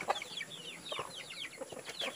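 A domestic chicken kept at home clucks in a rapid series of short calls, fairly close and steady, with no talk over it.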